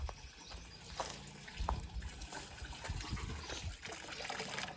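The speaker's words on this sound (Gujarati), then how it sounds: "અહીંયા જો પાણી ભરાઈ રહ્યું" Water runs and trickles steadily into a trough, fairly quiet, with faint background noise and no talking.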